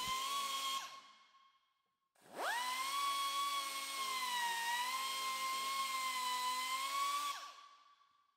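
A hand grinder smooths the corner of a metal glareshield panel for a Zenith SD aircraft with a loud, high whine. It spins down briefly, then restarts and runs steadily for several seconds before winding down.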